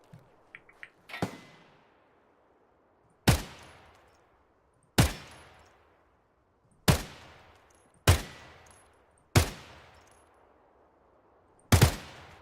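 Single gunshots in the video game Escape from Tarkov ring out one at a time at irregular intervals of about one to three seconds, seven loud sharp cracks with echoing tails, and no talking over them.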